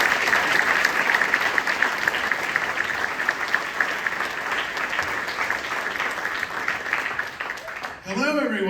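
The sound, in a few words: audience applause for Tony Baxter and Jason Sorrell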